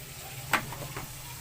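Faint, steady sizzle of food frying in a pan, with a brief louder crackle partway through.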